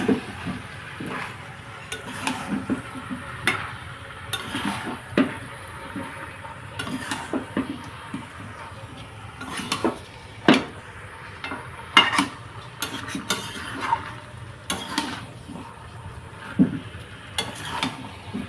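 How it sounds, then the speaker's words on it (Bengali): Chicken and potatoes being stirred with spices in a pan, a scraping spatula making irregular clinks and scrapes against the metal over a soft sizzle, moderately close and without talk. "তো এরপর মাংস আর আলুটা ভালো করে মশলার সঙ্গে একটু সাহায্যে নাড়াচাড়া করে নিচ্ছি"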